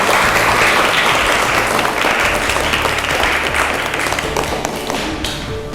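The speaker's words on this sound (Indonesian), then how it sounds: "Tepuk tangan anak-anak." Children in a classroom clap together in sustained, dense applause that stays loud and then gradually thins out toward the end.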